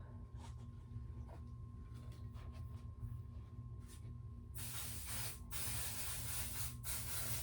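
A can of basting adhesive sprays onto a quilt top in short hissing bursts, then one long continuous spray, all close and fairly loud over a steady low hum, with no voices.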